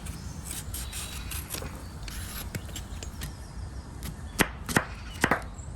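A knife cuts peeled raw green banana for a Goan mixed vegetable stew, giving a string of crisp chopping strikes. The strikes come light at first, then a few sharper, louder cuts near the end.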